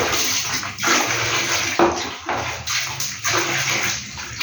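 Water pours and splashes steadily into a container or basin, with rushing, sloshing surges and a few brief pauses between pours.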